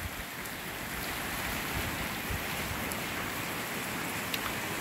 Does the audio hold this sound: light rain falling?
yes